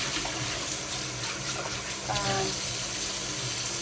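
Water runs steadily from a kitchen tap while a cup is rinsed, a continuous close splashing stream with brief clinks of the cup under the flow.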